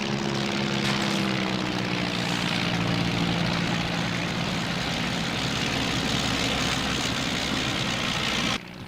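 A WW1 Airco DH.2 propeller aircraft engine in IL-2 1946 drones steadily and loudly throughout, with a constant buzzing hum that drops off abruptly at the very end.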